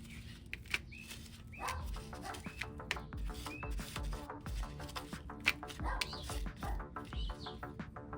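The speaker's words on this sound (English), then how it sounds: "Luigi there never stops barking." A dog barks outdoors in a garden during seedling transplanting, with scattered short yips and barks at moderate distance over continuous bird chatter and background noise.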